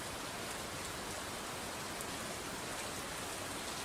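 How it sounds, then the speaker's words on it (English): Steady rain sound played back as a focus aid, a continuous even hiss of falling drops with no talking, holding constant level throughout. "I just use the rain sound instead, because that actually makes me focus."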